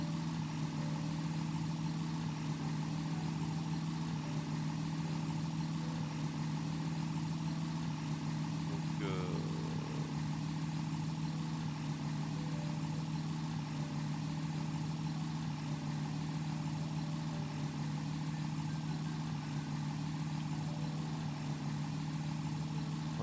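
Steady, unbroken drone of a Nord 1101 Ramier aircraft's piston engine running at about 2200 rpm, a constant low hum heard from inside the aircraft throughout, with no speech.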